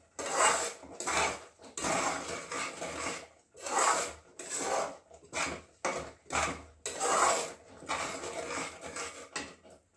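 A spoon scrapes and stirs lemon chutney with red chili powder in a pan, rhythmic rasping strokes with short pauses, close and fairly loud, no talking.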